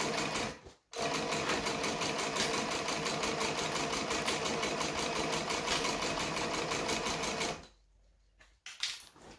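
A sewing machine stitches around the corner of a fabric bag, running as a steady rapid mechanical chatter close by for about seven seconds, then it stops, leaving a few soft handling noises.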